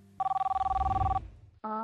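A telephone bell rings loudly in one steady burst, with a fast trill pulsing through it, then cuts off before a short second ring starts, for a viewer call to a news feedback program.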